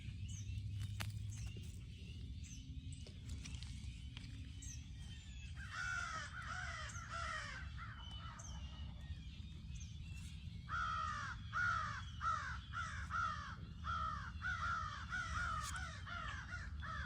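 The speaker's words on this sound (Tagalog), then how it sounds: "ang ingay ng ibon" Crows caw noisily in a backyard vegetable garden with tomatoes and kangkong, harsh calls repeating in bursts through the second half over soft outdoor rustle, with no talking.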